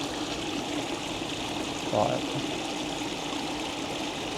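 Water rushes over rocks at Cascade Falls in a steady, broadband hiss that fills the whole stretch, close and loud, with a brief spoken word barely rising above it.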